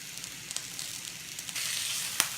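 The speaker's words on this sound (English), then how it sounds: "I like moving it around so the oil gets everywhere on the pan" Lemon chicken sizzles in hot olive oil in a pan, a soft continuous hiss with scattered light pops that swells louder in the second half, ending on one sharper crackle.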